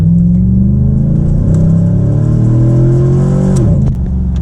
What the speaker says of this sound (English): We're gonna do a full throttle pull.